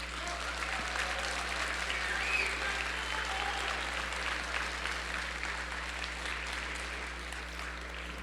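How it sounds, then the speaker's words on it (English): Students applauding their mentors at a FIRST robotics district event in a large arena, steady distant crowd applause sustained throughout, faint and reverberant over a low constant hum, with no talking. "Students, can you give your mentors a round of applause?"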